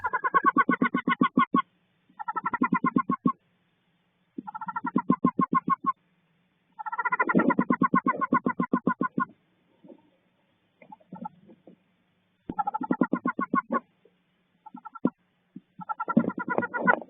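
A wood duck hen calls from inside her nest box as her eggs begin to hatch, giving repeated loud bursts of rapid, harsh notes separated by silent pauses, with a few fainter calls in between.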